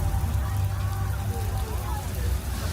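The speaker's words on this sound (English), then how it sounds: "The flash flood." Simulated flash-flood rain pours down on the Universal Studios Hollywood backlot tram tour, a loud, steady wash of falling water with a low rumble beneath it.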